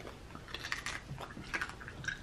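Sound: biting into crunchy air-fried lechon crust

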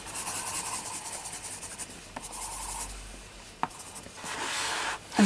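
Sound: burnishing with coloured pencil on paper, medium to hard pressure

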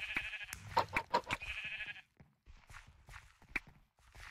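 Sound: sheep bleating in Minecraft (Mineplex) video game

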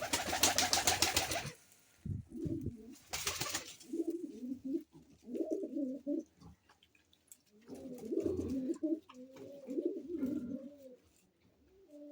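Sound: pigeons cooing

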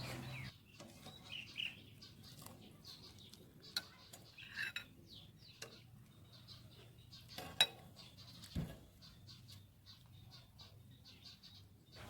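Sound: ladling hot sweet eggs from a pot onto taro

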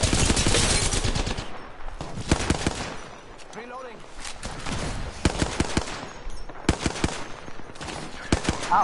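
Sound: gunfire in Apex Legends video game

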